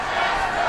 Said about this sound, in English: Crowd trying to spur on the Rhinos